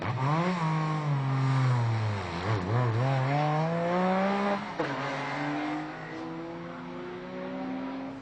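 Two Porsche 997 race cars battle on a circuit, their loud engines rising and falling through shifts and a corner, with overlapping high-pitched harmonic whines revving up, dipping, then climbing again close by.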